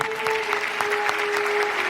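Studio audience applauding at a Thai country-music singing competition, steady clapping across the whole stretch with a sustained musical tone running underneath.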